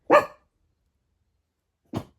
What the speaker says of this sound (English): What the hell is he barking at?